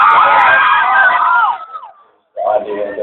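A concert crowd screams and cheers in a loud, bright roar that cuts out abruptly for a moment before surging back at full intensity.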